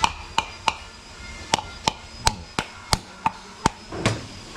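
A coconut struck again and again with a tea glass, about a dozen sharp, bright cracks at a steady uneven rhythm, close and clear with no talk, ending in a duller crack as the shell gives way.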